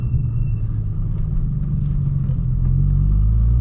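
A Nissan Skyline R34 with an RB25 engine making around 300 hp rumbles steadily from inside the car while driving, its deep engine and exhaust note swelling louder toward the end, with no talking.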